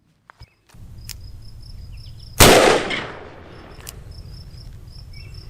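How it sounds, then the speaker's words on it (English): A Ruger Alaskan .454 revolver fires a single 300-grain round outdoors, one sharp loud blast with a rolling tail, preceded by faint handling clicks and crickets chirping in the background. "Let's put these 300 grainers across the chronograph."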